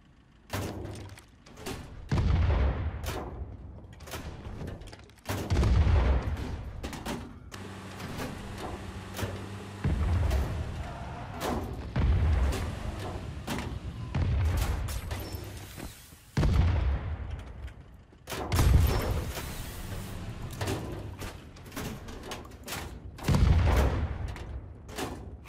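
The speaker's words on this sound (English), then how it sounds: "Stop firing!" Gunfire in the Ring of Elysium video game: heavy, booming shots repeat every few seconds over about twenty-five seconds, each with a thudding low-end punch and a short rumbling tail.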